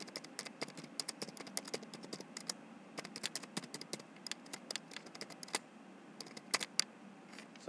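Rapid, irregular clicking of number keys on a computer keyboard as values are entered into a running program, close and fairly quiet, with no one speaking.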